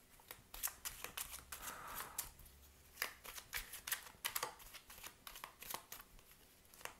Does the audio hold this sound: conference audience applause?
no